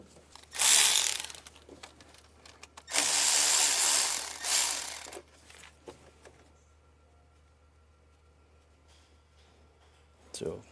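Two loud bursts of rapid ratchet clicking, close up, as a ratchet wrench undoes a vacuum pump bolt on a Sprinter RV, separated by a pause, followed by quiet handling noises and a brief metallic clink at the end.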